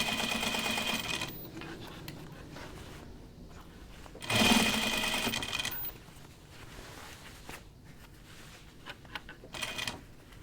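Sewing machine stitching denim jeans, running in fast whirring bursts separated by pauses, with one louder, denser burst in the middle; close and fairly quiet, with no one speaking.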